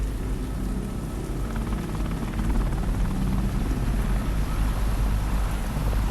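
Helicopters fly over a city at night in the Deadrop game, a steady, loud rotor roar and whine filling the scene without a break.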